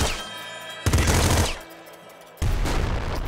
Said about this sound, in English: Pow, pow. Pop gun.